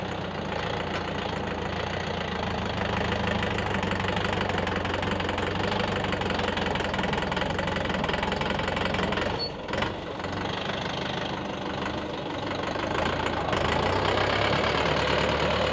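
A YTO EX 604 tractor engine runs steadily in reverse gear with a loud, continuous knocking diesel drone, close by and alone, with a brief dip near the middle.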